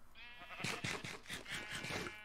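Sheep in Minecraft bleat several times in quick succession, a run of short, wavering bleats that sound fairly close but quiet, with no talk over them.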